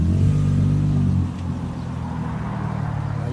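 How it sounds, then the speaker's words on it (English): Turbocharged Lexus IS200 engine revving through its exhaust, a loud rising rev that holds for about a second, then drops back to a lower, steady idle rumble. "Let's give it a bit of a rev, because that's all what you want to hear, aren't you?"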